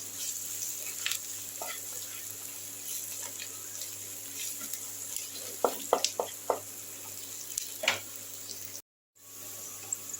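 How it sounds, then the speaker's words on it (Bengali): Spices with Kashmiri chili fry in oil in a pan for a rui fish curry, giving a steady close sizzle punctuated by a few sharp stirring scrapes, briefly cutting out near the end. "এবার আমি এটাকে তেলের সঙ্গে এই মশলাগুলোকে একটু ভাজা ভাজা করে নিচ্ছি।"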